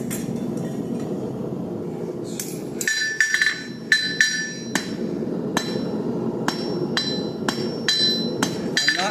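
Steel hammer strikes ring out on an anvil while forging leaves, about a dozen sharp, bright metallic blows in an irregular rhythm over a steady background hum, close and loud.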